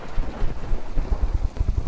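Rain pours during a storm in the video game From the Depths, a steady, dense patter with low rumbling underneath that carries on without a break.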